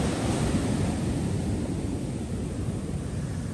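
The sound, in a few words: ocean waves on beach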